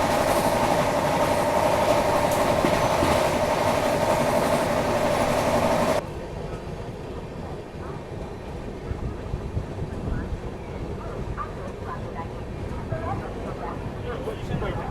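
Pushpak Express train rolling along the tracks near Manmad Junction, a steady loud rumble heard from inside the coach that drops to a quieter rattle partway through, with faint clicks and voices in the background.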